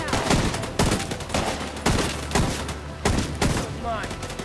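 Repeated gunfire bursts in a firefight in The Division 2, sharp loud volleys recurring roughly every half second to second, with shouted combat voices mixed under the shots.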